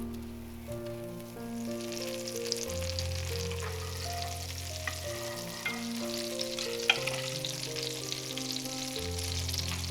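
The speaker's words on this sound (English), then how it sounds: "We are going to add the butter and we're going to make it brown." Butter browning in a large clean pan for pan-seared salmon, a soft continuous sizzle and crackle heard under steady background music with sustained tones.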